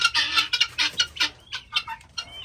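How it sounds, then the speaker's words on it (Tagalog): Several chickens clucking in a backyard in quick, uneven bursts, close by and fairly loud, with short pauses between calls. "Oh, mga manok na mo."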